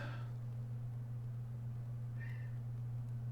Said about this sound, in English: Then you hear my cats in the background.